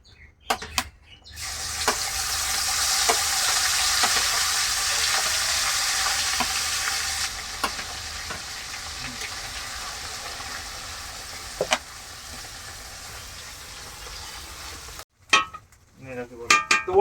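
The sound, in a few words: spice masala frying and being stirred in a pan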